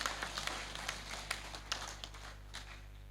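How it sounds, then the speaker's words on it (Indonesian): A few scattered, light claps from an audience at a college graduation ceremony, faint and sparse over a steady background hum. "Mari kita berikan tepuk tangan."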